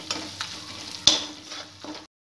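Asafoetida, turmeric, coriander and red chili powder frying in a pan for shahi paneer, a steady hiss broken by a handful of spoon scrapes, one sharp clink standing out.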